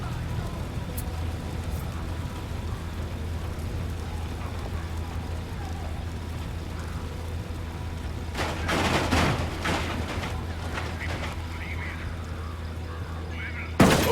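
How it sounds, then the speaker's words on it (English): Gunfire in the video game Ghost Recon Wildlands: a cluster of sharp shots bursts out midway over a constant low ambient rumble, with one more loud crack at the very end. "Opening fire."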